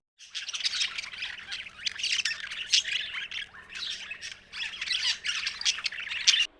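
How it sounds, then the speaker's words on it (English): Budgie squawking and chattering: a dense, continuous stream of harsh squawks and chirps, fairly close, with overlapping calls throughout. "budgie"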